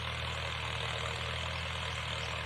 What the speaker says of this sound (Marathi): ट्रॅक्टरचं दुसरं तास आलेलं आहे आणि गोल्डन वाटाण्याचं बियाणं पेरणी चालू आहे